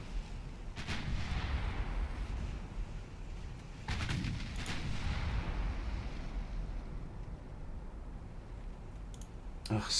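Naval gunfire in the warship game Ultimate Admiral Dreadnoughts: a few booming cannon shots spaced several seconds apart over a steady rumbling sea-and-engine background, with someone talking at times.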